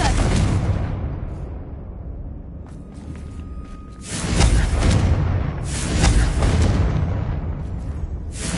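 Loud Confringo spell explosions in the video game Hogwarts Legacy, heavy booming bursts that start abruptly and decay, several in sequence with quieter gaps between, a faint voice briefly under them.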